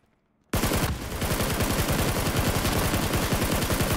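Sustained full-auto rifle fire in PUBG, a sudden loud burst that runs unbroken for over three seconds in a fast, even rhythm of close, heavy shots.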